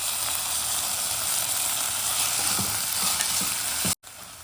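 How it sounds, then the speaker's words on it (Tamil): Onion and tomato sauté in a hot pan for a Kathrikkai Kosmalli dish, giving a steady broadband sizzle with occasional stirring scrapes, close and continuous before a brief cutoff near the end. "தக்காளி கொஞ்சம் நல்லா வதங்கணும்"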